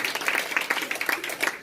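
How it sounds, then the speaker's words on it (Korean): An audience claps right after a song at a talk show. The brief burst of applause is close and choppy, with individual hand claps distinct within it. "박수 감사합니다"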